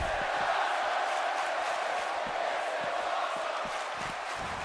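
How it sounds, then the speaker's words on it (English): A wrestling crowd at an LCWL Friday night show cheers and roars in a steady, broad wash of noise, with scattered claps and shouts rising through it for the whole stretch. "Crowd enjoying it."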